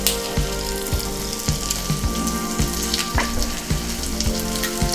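Prawns sizzle steadily as they fry in a pan for a simple home-style prawn fry, with sharp clatters at regular intervals as the pieces are flipped and stirred, all close and without talk.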